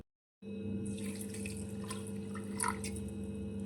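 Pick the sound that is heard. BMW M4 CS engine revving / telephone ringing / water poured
water poured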